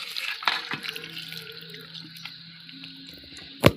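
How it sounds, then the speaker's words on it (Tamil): Buttermilk is poured over turkey berries set for sun drying, a continuous watery trickle and splash close by, ending with a brief louder knock. "இப்போ நம்ம மோரை இதில் ஊற்றிக்கலாம்."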